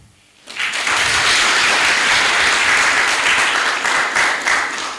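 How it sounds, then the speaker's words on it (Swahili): A debate audience bursts into loud, sustained applause after a short quiet moment, many hands clapping densely together until it eases off slightly near the end. "As I close, maybe to the panel, pia si tunaomba makofi"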